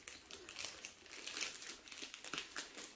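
Plastic packaging bag from a diamond painting haul crinkling and rustling as it is handled and cut open, close and fairly quiet, with irregular bursts of crackle.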